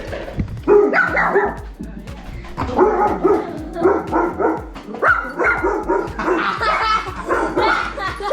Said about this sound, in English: Doberman dog barking sound effect.